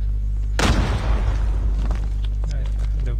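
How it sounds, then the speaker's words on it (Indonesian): A single loud, close bomb blast in Call of Duty Mobile on a terminal map, with a sharp onset and a rumbling decay lasting a couple of seconds, and voices chatting over the game audio. "Bom tuh tadi."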